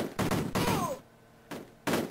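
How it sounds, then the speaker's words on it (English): Retro gunfire from the Amiga video game Cannon Fodder, a few short bursts of rapid shots separated by brief pauses, with a descending whistle-like effect in the middle; game sounds only, no talk. "I think I can shoot at them from higher ground,"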